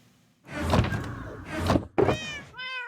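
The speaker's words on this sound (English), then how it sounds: "We visit the kitties at sunrise." Cats meow in a video game, two or three drawn-out calls close together ending in a higher, wavering cry. The sounds are close and clear, with no talk over them.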